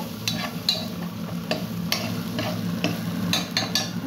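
Vegetables for fried rice stir-fried in a pan, a low steady sizzle broken by intermittent scrapes and clinks of a spatula against the metal, close and fairly quiet.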